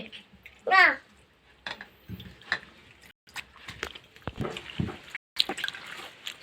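Water drips and trickles off freshly washed helencha greens in a bowl, faint and intermittent beneath nearby talking and a voice.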